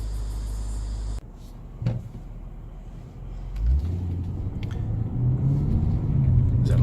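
A 2019 Lexus GS F 10th Anniversary engine gives a deep, throaty rumble that swells and grows stronger over a few seconds after a sharp interior clunk, heard close and with no speech.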